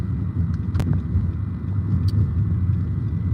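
A car's interior rumble carries on steadily as it drives along, a low, even road drone with a couple of faint ticks and no speech.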